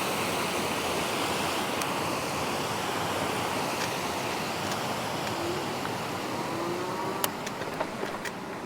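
Water flows over a small waterfall-like spillway into a pond-like area near a water treatment plant, making a constant broadband rush. A few faint clicks and a distant hum sit under it, and no one speaks.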